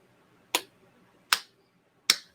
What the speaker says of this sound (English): that's a killer clap